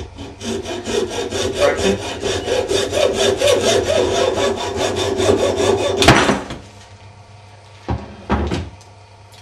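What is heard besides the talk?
sawing through plastic water pump held in vise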